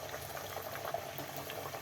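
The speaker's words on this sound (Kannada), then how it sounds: "ಎಣ್ಣೆ ಕಾದ್ಮೇಲೆ ನೋಡಿ ಈ ಥರ ಬಿಟ್ಕೊಳ್ಳೋಣ" Maddur vada batter drops into hot Freedom frying oil in a kadai, a dense bubbling sizzle that stays steady, close and quiet, with no voices.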